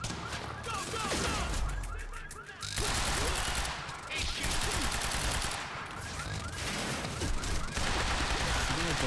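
Gunfire in the video game Quantum Break: dense, rapid bursts of shots and fusillades fill the scene, pausing briefly before resuming, with a voice talking over the action.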